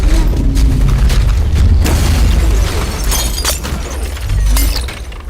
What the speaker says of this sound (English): The three basic layers are the literal debris, explosions, the things that we see happening around them.